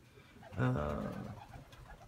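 Pigeons coo inside a loft, one brief, fairly close burst of soft throaty cooing against a quiet background with low room noise.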